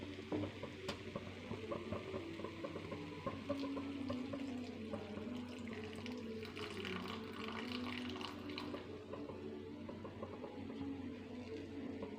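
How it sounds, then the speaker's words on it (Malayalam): Coconut milk pours and swishes steadily into a pot of soybean curry over a faint sizzle, close up and continuous, with no voices. "അത് നമുക്കിതിലേക്ക് ഒഴിക്കാം"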